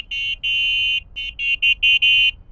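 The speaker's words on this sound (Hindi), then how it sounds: "और ये इसका हॉर्न है।" Horn of a Yulu electric scooter, a high electronic beeping tone sounded in a string of about eight short and longer bursts, close and loud with no talking.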